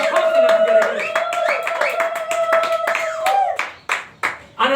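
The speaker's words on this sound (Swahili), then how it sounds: "Mpigie makofi na vigelegele." Congregation at a church service clapping in loose rhythmic bursts alongside a sustained singing or ululating voice, with percussive claps growing sharper and more spaced toward the end.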